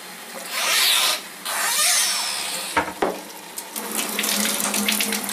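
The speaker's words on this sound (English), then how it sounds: "we'll run some water through, cold water" Cold water runs from a tap through a K8 water ionizer into a sink, a steady hiss that stops briefly, followed by a couple of knocks and then a resumed splashing flow, heard alone.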